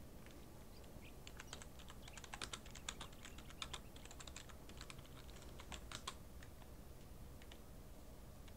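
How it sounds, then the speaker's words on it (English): Steady clatter of keys being typed on a computer keyboard, a continuous run of light, quick clicks with small bursts of louder strokes, close and fairly quiet with no talk. "I'm just like concentrating on typing."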